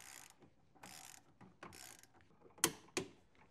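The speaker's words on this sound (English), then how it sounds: "Now we're gonna torque to 35 foot-pounds." A torque wrench tightening a bolt to 35 foot-pounds on a 2023 Mercedes Sprinter van's OM654 2.0L diesel engine, heard as several bursts of close ratcheting clicks followed by two sharp, loud snaps as the wrench releases.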